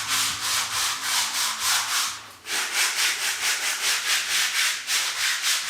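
A belt sander grinds against a workshop wall in close, loud, rhythmic sweeps, with a brief dip in the middle before it continues, and no voices.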